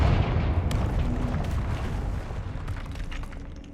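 Confringo fire-blast spell explosion in Hogwarts Legacy: a loud, deep booming burst up front that rumbles and slowly decays, with scattered crackling debris and small pops continuing through the tail.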